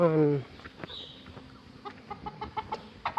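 Farmyard chickens kept alongside ducks and geese: one loud cluck opens, then quieter scattered clucks and small ticking sounds follow.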